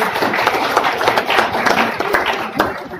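A crowd at a company thanksgiving party in an events hall claps for a colleague's promotion, a loud, dense burst of hand claps that carries steadily for a few seconds with some voices mixed in.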